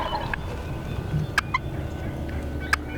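Two wild turkey toms gobble from a hillside at sunrise during a hunt, their rattling calls coming in short, distant bursts over quiet morning ambience.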